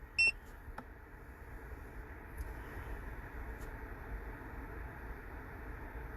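A single short electronic beep sounds from an Autophix 7810 scan tool for BMW as enter is pressed, faint and alone above quiet background hiss.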